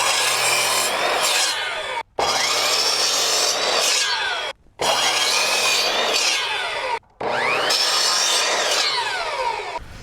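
A handsaw cuts a wooden board in four long runs of rhythmic back-and-forth strokes, loud and close, each run broken by a short pause.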